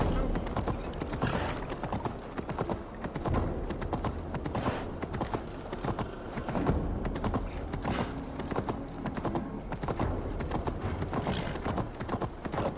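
In Assassin's Creed Valhalla, horse hooves gallop in a fast, continuous clip-clop rhythm that stays close and steady throughout, with a brief whinny and faint game sounds mixed underneath.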